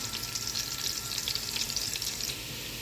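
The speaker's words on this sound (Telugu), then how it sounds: "ఇదిగోండి ఇట్లాగా ఆనియన్స్ ఫ్రై అవుతున్నాయి." Onions frying in a pan for vegetable biryani, a dense steady crackling sizzle that holds close and even throughout, then eases slightly near the end, with no voices.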